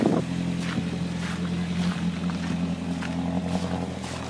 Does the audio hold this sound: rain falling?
no